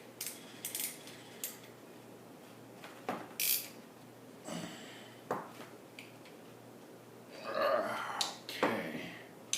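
Ratcheting wrenches worked by hand while assembling a propane forge, giving scattered close mechanical clicks and short rasping bursts, busiest near the end, with a few brief vocal sounds in between.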